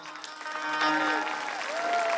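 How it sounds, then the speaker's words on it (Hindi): Devotees applaud to celebrate the divine wedding of Shri Ram and Sita at a Ram Katha religious gathering, with steady clapping under music that holds a sustained tonal melody throughout. "भगवान के विवाह के उपलक्ष्य में समस्त भक्तगण एक बार जोरदार तालियों के साथ"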